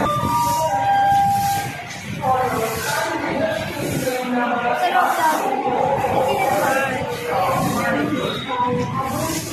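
A train pulls away from a small station, a loud broad rumble and hiss with scattered whistle-like tones, heard close throughout with voices talking over it.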